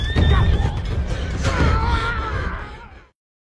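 Horses of unknown attacking riders neigh loudly in a film scene, a continuous whinnying over heavy low rumble and hoof noise lasting about three seconds before cutting to silence.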